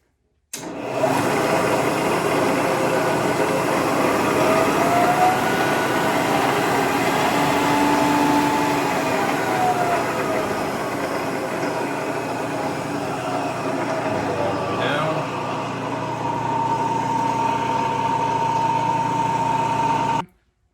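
A Lagun FTV-1 Bridgeport-style manual milling machine with an R8 spindle runs steadily in low speed, a continuous mechanical hum and whine sustained at even loudness for about twenty seconds before cutting off.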